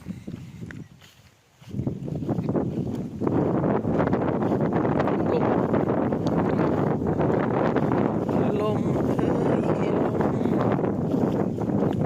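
Strong wind buffets the microphone outdoors on a rural countryside walk while foraging for food. After a brief quieter moment it becomes a loud, steady roaring rumble that runs on without a break, with faint voices partly buried beneath it.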